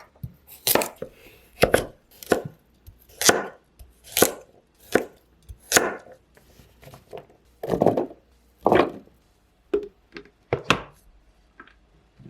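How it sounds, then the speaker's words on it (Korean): A knife chops carrots on a cutting board in a home kitchen, landing about a dozen crisp, evenly spaced strikes at a steady unhurried rhythm, close and clear with no talking. "당근도 적당한 크기로 잘라 넣어줄게요"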